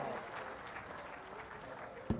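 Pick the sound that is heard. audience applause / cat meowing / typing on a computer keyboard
audience applause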